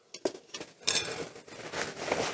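Metal rack of a Ninja Foodi air fryer sliding out after cooking chicken wings, with close scraping and clinking metal clatter that builds into a longer rattling slide.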